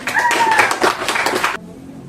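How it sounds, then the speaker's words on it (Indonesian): A classroom of students claps briefly for a classmate after a poetry answer, a short burst of quick hand claps that cuts off abruptly. "tepuk tangan untuk Farhan"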